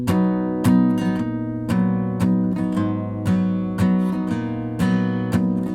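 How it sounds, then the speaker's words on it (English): A Cort Gold A6 acoustic guitar, panned left, strums a steady waltz pattern, each strum ringing out with sustained chords, played alone without voices. "a left panned acoustic guitar that sounds like this."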